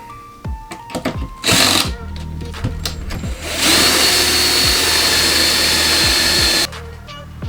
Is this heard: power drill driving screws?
yes